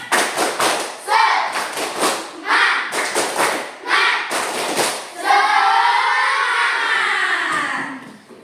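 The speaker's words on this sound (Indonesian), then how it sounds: "yuk kita tepuk semangat dulu yuk" A classroom of children performs a patterned clapping routine, claps and thumps falling in rhythmic bursts under shouted chanting, then breaking into a sustained cheer of young voices.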